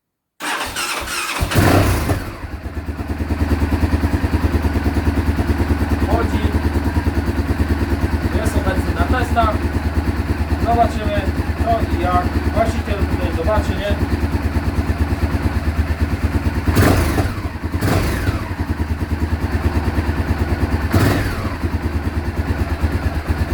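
Honda VTR1000F motorcycle after repair cranks and fires up, then its V-twin engine idles loudly and steadily at close range with a few sharp clicks and blips, while someone talks over it.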